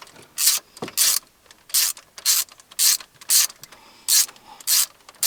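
A ratchet tightens cylinder head bolts on a Land Rover engine during a head gasket rebuild, in short bursts of quick metallic clicking, about nine close, loud runs separated by brief pauses.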